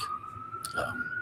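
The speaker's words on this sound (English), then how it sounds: "Pardon the sirens." A faint siren wails steadily in the distance, a thin sustained tone under quiet background noise.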